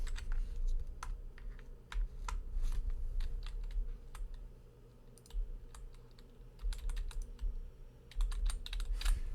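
Fast, uneven keyboard typing at close range, with clusters of crisp key clicks and brief pauses over a constant low background hum during gameplay.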